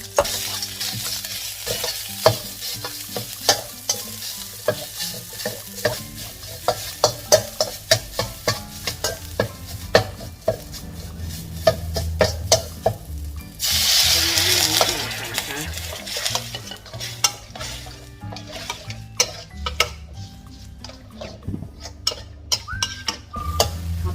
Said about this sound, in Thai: แล้วก็จะผัดพริกแกงก่อนค่ะเพื่อให้ พริกแกงหอมนะคะ